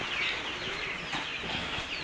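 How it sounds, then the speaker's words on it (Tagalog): Broiler chickens cluck softly in a farm coop on a rainy day, their faint calls mixed into a steady wash of broadband noise with no talking. "Yan, yan mga manok, mga panabong, mga breeder."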